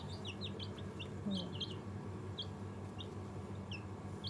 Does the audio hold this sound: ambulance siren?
no